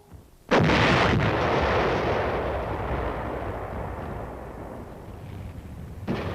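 A single heavy US Army artillery blast from the Korean War booms loudly after a short quiet, then rolls and echoes away slowly, with a faint second thump at the end.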